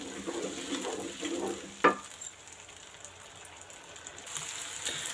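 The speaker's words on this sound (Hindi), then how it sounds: "इसको अच्छे से हम फ्राई कर लेंगे।" Onions fry in a pan for an egg and potato curry, a faint steady sizzle with a soft clink of a utensil partway through.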